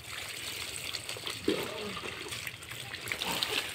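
Water poured and splashing while a child is bathed outdoors in the sun in a village, a soft broadband trickle and gush running steadily throughout with a couple of brief louder splashes, voices faintly present.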